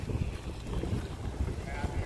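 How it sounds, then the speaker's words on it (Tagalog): Steady wind rushes and buffets against the microphone, a low rumbling gust noise with no clear voices. "Mahangin ngayon, mahangin."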